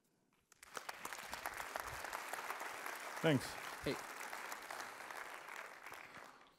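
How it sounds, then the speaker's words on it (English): Audience applause welcoming Dr. Johannes Teyssen of E.ON to the stage for a talk on the German energy transition, a steady dense patter of many hands filling the room, with a couple of brief spoken interjections rising over it. "This is your applause."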